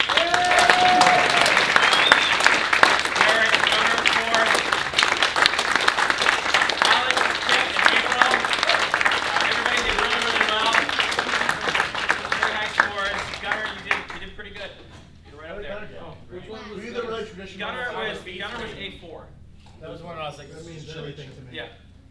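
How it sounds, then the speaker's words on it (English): An audience at a Leatherface chili cook-off panel during a virtual Coast City Comicon breaks into loud, dense applause that carries on for many seconds, then thins out as voices start talking over the last stretch. "Everybody start applauding"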